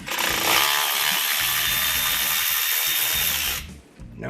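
A power driver fitted with a T40 Torx bit whirs loudly and continuously for about three and a half seconds at close range, then cuts off into a quieter rattle.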